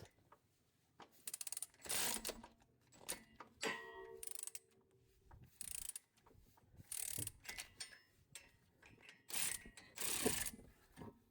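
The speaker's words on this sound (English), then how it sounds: "get yourself the appropriate size socket for your bolt, and slowly crank it down, and you'll watch it pop off" A ratchet socket wrench slowly cranks down on a bolt to press a tight-fitting brake rotor off the hub of a Highlander, giving bursts of clicking ratchet strokes with short pauses between them, close and fairly loud.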